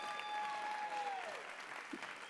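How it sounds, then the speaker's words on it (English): Audience applause at a Hooters International Swimsuit Pageant, steady clapping with a sustained tone over it, fairly faint and brief. "How about another round of applause for Rich Davis being such a good sport?"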